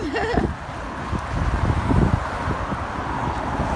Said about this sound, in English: It's a little too windy, isn't it?